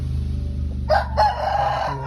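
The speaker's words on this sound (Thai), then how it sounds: "อันนี้เป็นไก่ ปล่อยฝูงนะครับ" A free-range Koi Ngon rooster, about ten to eleven months old, crows nearby in a loud, drawn-out call, broken into a short first note and a longer, wavering second phrase over steady low background hum.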